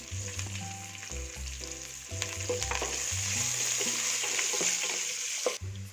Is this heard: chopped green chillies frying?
yes